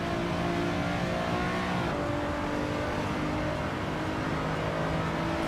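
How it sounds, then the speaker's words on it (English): A race car engine in the Assetto Corsa sim racing game, fitted with a swapped-in sound, holds a steady loud drone with layered harmonic whine that dips and shifts slightly as it revs, continuous throughout. "I put a different car sound on this because it sounds better than the mod."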